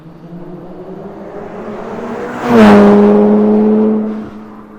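A Mitsubishi Evo passes close at high revs near redline in fourth gear, its exhaust rising to a loud snarling peak as it goes by, then falling away in pitch and volume as it pulls off into the distance.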